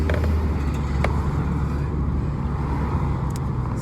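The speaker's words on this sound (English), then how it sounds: "A lot of traffic this time of day." Road traffic rolling past a car interior, a steady low rumble with a couple of brief louder passes, no talk over it.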